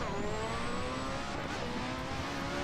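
Race car engine in Assetto Corsa revs up steadily under continuous load, its pitch climbing through the gears with a brief dip at a shift, loud and close with a rough broadband roar.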